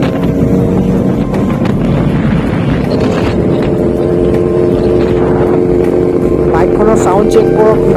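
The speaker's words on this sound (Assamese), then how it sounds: "বাইকখনৰ চাউণ্ড চেক কৰক না, 4 চিলিণ্ডাৰ ফুল চিষ্টেম।" A Kawasaki Z900 four-cylinder motorcycle with a full exhaust system rumbles steadily and loudly throughout, its engine note mixed with heavy wind buffeting on the microphone during a ride.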